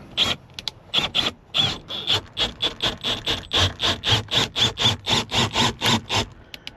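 A WRD Bison tool cuts out the glass roof of a Land Rover Discovery in a fast, steady train of about twenty even, scraping strokes, close and fairly loud, with no talk.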